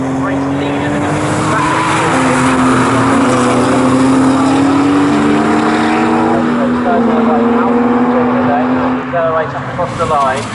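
Porsche race cars in a trophy race at Snetterton circuit accelerate past, engines rising and shifting in loud sustained tones with squealing tyres, under steady commentary.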